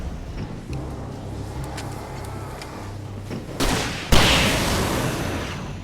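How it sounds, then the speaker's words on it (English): A flare gun fired in Alan Wake Remastered on Xbox Series X bursts like a grenade: two loud, sharp blasts close together near the end, cutting through a low, rumbling game ambience. "This is the time for the flare gun. Yeah. It's like a grenade."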